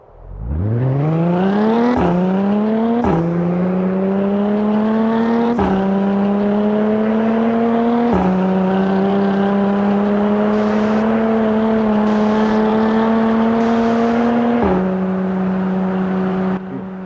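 An SUV on Nitro Meth in a racing game accelerates flat out in a top speed test, a loud engine roar rising in pitch through several gear changes, each marked by a brief dip, with no talking.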